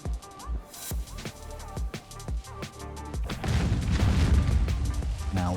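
Bombs blowing up in a raid in the video game Conan Exiles: a string of sharp, booming blasts at uneven intervals, then a denser, rumbling stretch of explosions and debris toward the end, loud and close.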